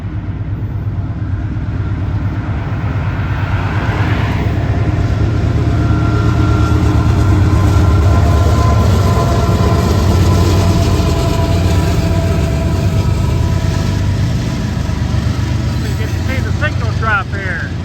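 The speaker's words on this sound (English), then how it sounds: "I got northbound loaded coal train." A loaded northbound coal train rolls past on the former Norfolk and Western line near Chillicothe, a loud continuous rumble and grinding of wheels for the whole stretch, with squeals and clanks rising near the end.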